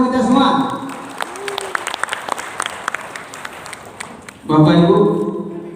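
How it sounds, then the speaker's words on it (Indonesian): An audience of parents and students from across West Sumatra applauds at a Sepekan 1 Buku Perpusnas literacy event in Padang, a dense, steady round of clapping that follows a speaking voice and gives way to talk again near the end. "Tepuk tangan untuk kita semua."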